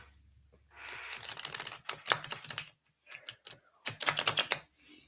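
Playing cards shuffled by hand, with rapid crisp riffling bursts in two or three quick runs separated by short pauses, close and fairly quiet, with no talk.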